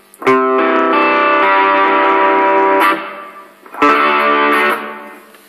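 An electric guitar played through a Digitech Hardwire RV-7 reverb pedal on a room setting gives two loud distorted strummed chords, each ringing and sustaining before a short reverb tail, close and with no talking.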